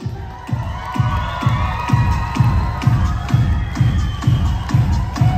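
Wedding guests at a Kazakh circumcision celebration toy shout and cheer loudly in a big hall, their crowd noise riding over a steady, regular thumping beat of about two pulses per second that continues throughout.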